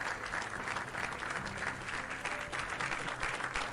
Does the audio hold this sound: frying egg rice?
no